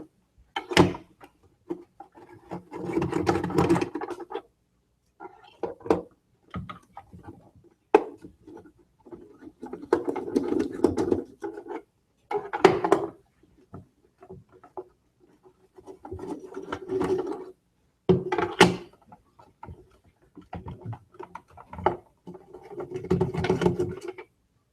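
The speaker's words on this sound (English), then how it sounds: "there's just a handful of screws recessed down in some bosses that I'm gonna take apart" Recessed screws being backed out of the bosses of a Breville Sous Chef food processor housing during a teardown, heard as repeated bursts of scraping, rasping driver turns separated by short pauses, close up with no talking.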